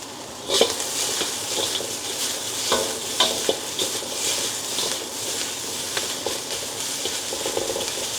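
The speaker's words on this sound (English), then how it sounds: "you want to have a stir fry, not a stir boil" A seafood combo stir-fries in a hot pan, a steady loud sizzle broken by scraping and stirring clatter from utensils on the metal, with no talking.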